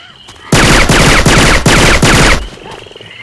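Rapid automatic gunfire from Syphon Filter weapon sound effects modded into the zombie shooter Left 4 Dead 2, a loud sustained burst of about two seconds with brief stutters, then fading to quiet game ambience.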